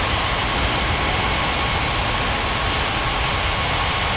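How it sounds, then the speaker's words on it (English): An Air India airliner from a flight video game roars down the runway on its takeoff roll, a loud, steady, unbroken wash of jet engine noise that holds at constant strength throughout. "Air India 7147, cleared for takeoff runway 35 right."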